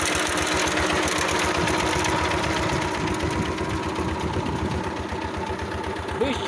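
A tractor-driven rotary mower, just repaired, cuts tall grass with a steady, loud, rapidly pulsing engine drone and mechanical clatter that runs continuously throughout.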